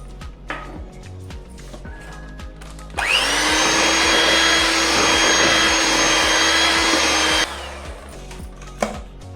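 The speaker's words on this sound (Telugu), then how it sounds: "ఇందులోనే కాఫీ కలిపిన మిల్క్ కూడా వేసుకొని బీట్ చేసుకుందాం" An electric beater whips butter cream with coffee-flavoured milk, its motor whining loud and steady for about four and a half seconds between quieter handling noises.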